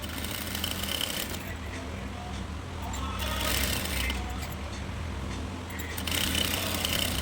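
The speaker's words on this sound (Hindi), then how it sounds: "पहले किनारे की इसलिए सिलाई लगाते हैं कि फिर ये जो पट्टी होती है इसकी सेटिंग सही आ जाती है।" A sewing machine stitches along the edge of a belt shalwar, a steady mechanical whir that rises and falls in runs over several seconds, with someone speaking over it.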